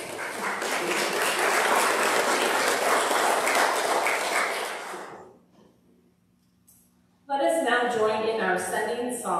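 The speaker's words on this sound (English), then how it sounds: "let us just give a round of applause for birthdays." Loud church congregation applause for birthdays, about five seconds, fading out to near silence, then a burst of other sound with voices.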